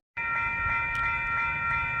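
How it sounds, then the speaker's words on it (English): A Union Pacific freight train led by locomotive 7742 in St. Paul starts abruptly with a sustained, tonal horn-like drone over a low rumble, fairly close and steady throughout. "7742 Union Pacific is the leading locomotive"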